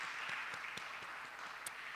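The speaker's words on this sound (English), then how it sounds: "let us give us a round of applause to all our students who pitched here today" Audience applause for student pitchers at a university entrepreneurship intervarsity event, a steady wash of many hands clapping with no pauses, moderately loud and filling the room.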